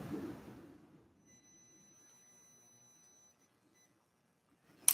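Continuity-test beep from a multimeter probing a power button on a circuit board under repair, a faint steady electronic tone lasting about two seconds after some handling noise, with a sharp click at the end.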